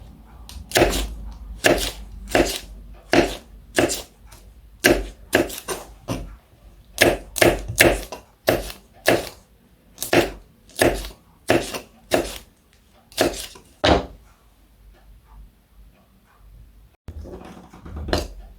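Knife chopping ingredients on a board for a bitter gourd sambol, a steady run of crisp, evenly spaced close-up cuts that pause briefly near the end before one more chop.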